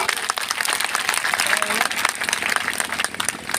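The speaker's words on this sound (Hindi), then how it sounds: "आज मैं चाहता हूं अपने मुख्य अतिथि का एक जोरदार सम्मान आप लोगों की तरफ से तालियों के साथ" Dense, continuous clapping from a crowd at a festival speech event in Ahraura, Mirzapur, fills the whole stretch, loud and steady without pause.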